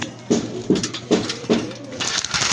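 Newly harvested pet birds of INO and PF lines calling nearby: four evenly spaced, low cooing calls, then a busier stretch of overlapping calls toward the end.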